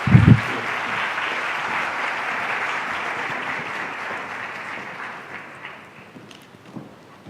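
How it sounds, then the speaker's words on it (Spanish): Audience clapping at the end of a panel talk on gender harassment in medical practice: a broad, sustained wash of many hands that holds steady, then thins and fades out toward the end. "un aplauso, por favor"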